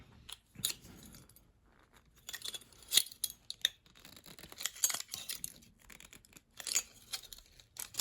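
A big screwdriver works a part off a bearing shaft in a series of close, irregular scraping clicks and metallic ticks, scattered in short bursts throughout.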